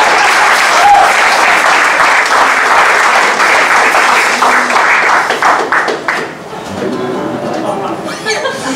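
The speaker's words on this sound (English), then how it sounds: "Let's have one more round of applause" Audience applause at a live comedy revue, a loud, sustained roar of many hands clapping that fades after several seconds as a voice starts talking over the last scattered claps.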